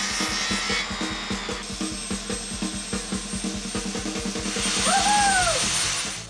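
Power saw cutting through wood, a rapid rhythmic series of loud toothed strokes running steadily and close, with a brief rising and falling whine near the end.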